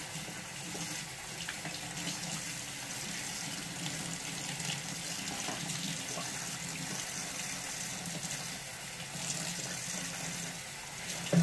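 Tap water gushes and splashes steadily while a spoon is rinsed under it in a kitchen sink, a continuous hiss of moderate loudness with a small clatter near the end.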